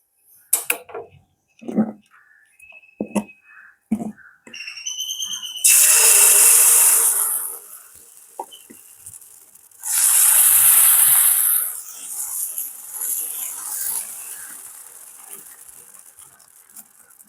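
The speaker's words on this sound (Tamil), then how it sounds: "இந்த மாவை நாங்கள் ஊற்றி கொள்ளுவோம்" Dosa batter poured onto a hot pan greased with sesame oil, giving two loud, sustained sizzling hisses separated by quieter crackling, with clinks of utensils beforehand.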